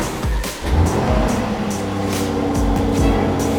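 An Aston Martin DB12 with an AMG engine heard from inside the car on a drive in Madrid: a loud, steady low engine rumble with a slight swell of revs, continuous and close, with no talking over it.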